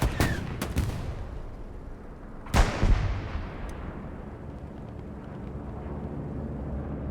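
Artillery shells burst one after another in the Broken Arrow war game, each blast a sharp heavy crack that rolls into a long fading rumble, with a few closely spaced hits early and a louder one midway.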